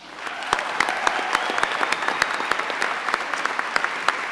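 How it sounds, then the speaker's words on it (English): An audience applauds Claire Lane as she receives the 2022 Health Minister's Award for Nursing Trailblazer, a loud, dense and steady clapping that fills the whole stretch without any voice over it. "please give her a round of applause"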